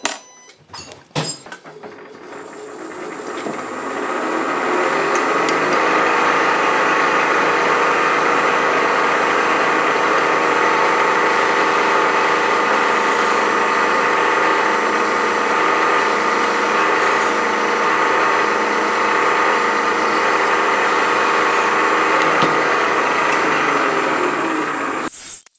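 A milling machine runs steadily for a long stretch, its drill grinding through-holes in a metal part for a rotary broach with a constant whirring hum after a short start-up, no voices.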